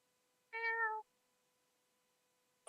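A person imitates a cat with a single drawn-out, harmonic meow lasting about half a second, clear and close against near silence.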